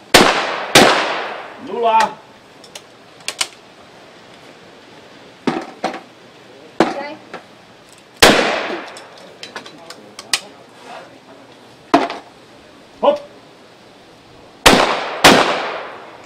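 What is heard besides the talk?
shotgun shots at clay targets in a shooting competition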